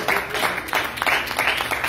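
A church congregation claps their hands together at a service, giving a steady, moderately loud round of mixed claps that carries on for the whole moment with no voices over it.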